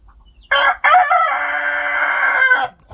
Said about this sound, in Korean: 자, 수탉이 우람한 울음소리 한번 들어보겠습니다.